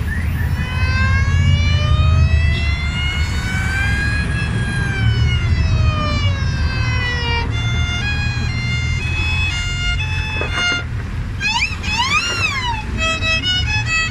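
A voice imitates an ambulance siren, wailing up and down in long sweeping tones and then switching to rapid yelping whoops, loud and close over steady background noise.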